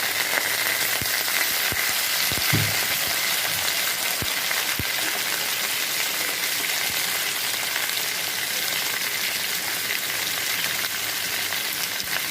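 Mango pieces dropped into hot oil with fried bay leaf, garlic and chillies, giving a steady, dense crackling sizzle with a few sharper pops, continuous and fairly close.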